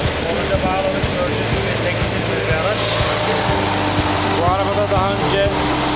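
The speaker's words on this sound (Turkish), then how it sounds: "Araba çalışıyor." A rebuilt off-road Jeep engine with a dual-barrel carburettor runs steadily up close, a continuous idling drone with a rhythmic low pulse throughout, while a voice talks over it.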